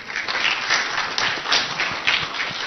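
Audience clapping at a political party gathering, a dense, steady patter of many hands filling the whole stretch at moderate loudness with no voices.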